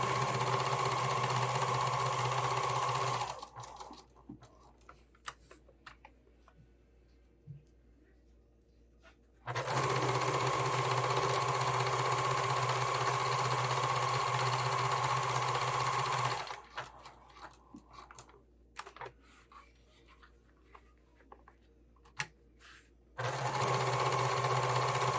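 Steady whirring from a sewing machine stitching the seams of a Slimline Sling bag, including the zipper ends, comes in three long, loud runs separated by near-silent pauses while the fabric is adjusted.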